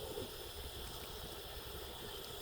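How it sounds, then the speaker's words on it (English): Broth poured into a pan of risotto giallo with porcini, a steady liquid trickle and gentle gurgle running continuously, moderately close, with no talking. "it's getting dry again, so we're gonna add some more broth"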